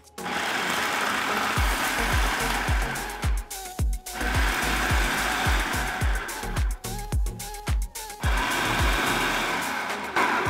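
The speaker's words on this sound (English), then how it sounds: "So into the food processor, 2 cups of walnut halves. We're gonna grind those up, not super fine" A food processor grinds two cups of walnut halves, whirring loudly and close in a series of repeated pulses with brief stops between them.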